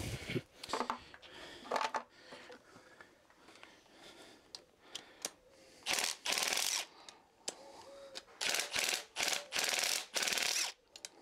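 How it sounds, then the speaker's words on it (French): A ratchet wrench loosens the intake manifold on a Fiat Abarth 131 engine, giving close, crisp clicking in bursts and then a run of rapid, evenly repeated ratchet strokes. "Il faut déjà desserrer le collecteur d'admission."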